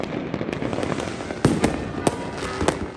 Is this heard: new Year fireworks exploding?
yes